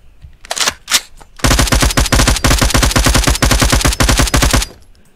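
An ATF Mirage toy gun fires a loud, fast continuous burst of rapid shots lasting several seconds, preceded by a couple of brief bursts, close by with no talking.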